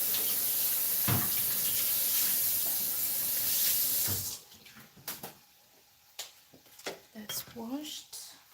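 Tap water runs steadily and hisses broadly while food is rinsed in a kitchen sink during beef stir-fry prep, then cuts off, leaving scattered clinks and a voice speaking.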